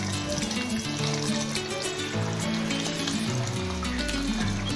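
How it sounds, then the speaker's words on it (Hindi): Chicken nugget pieces deep fry in hot oil, giving a continuous, loud bubbling hiss that holds evenly throughout. "तेल अच्छे से गर्म हो जाए तो एक एक करके आप पीसेस डाल दीजिए।"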